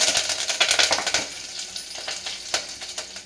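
Mustard seeds, cumin and curry leaves crackle and sizzle in hot oil, a bright, busy spatter that is loudest at first and then settles into a steadier fizz with scattered pops.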